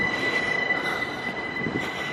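A train rumbles close by at a station with a high, sustained wheel squeal ringing over the steady rolling noise, no voices.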